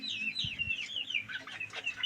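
Seven Bangkok chickens, about six weeks old, cluck and chirp steadily in a raised cage at a home livestock yard. The sound is fairly close, with no talking.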